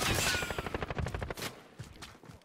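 A rooftop shooter in Call of Duty lets off loud, close gunfire in rapid automatic bursts, a rattling string of sharp shots that tapers slightly toward the end.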